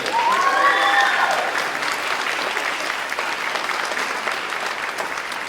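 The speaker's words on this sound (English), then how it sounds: "a round of applause for Eli on the drum set in that last song." Applause from an audience at a school spring band concert, dense and loud at first, then gradually easing off, with a brief cheer or whistle near the start.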